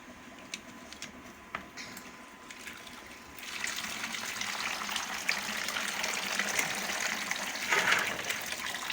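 Zobo leaf drink poured through a fine sieve, starting as scattered drips and taps before a steady, louder stream of liquid splashes down for the rest of the stretch.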